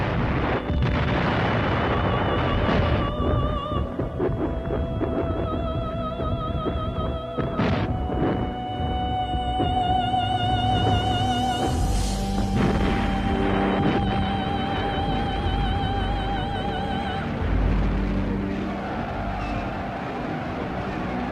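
Artillery bombardment from guns, mortars and rocket launchers in the Crimea battle, heavy continuous rumbling with repeated booms and crashing blasts, loud and dense throughout with no talk.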